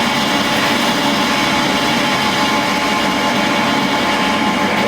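A Bantam metal lathe cuts steel into big chips, producing a continuous, loud, close machining whine and rumble with a gritty cutting texture and no talk.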